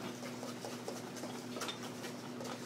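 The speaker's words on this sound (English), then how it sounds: "Lemon juice in. Mix that in." Lemon juice being stirred into a thick hollandaise sauce: quick, steady scraping and clinking of utensil against bowl, close and continuous over a low kitchen hum, without talk.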